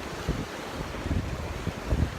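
Ocean surf rolls onto a beach under steady wind that buffets the microphone. It makes a continuous loud roar with soft thuds of breaking waves and no voices.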